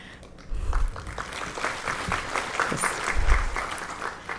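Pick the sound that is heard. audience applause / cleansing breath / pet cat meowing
audience applause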